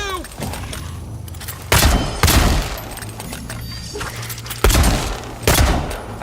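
Gunfire in the video game Avowed, with several loud, sharp shots ringing out in close pairs over a busy combat backdrop of rumble and clatter.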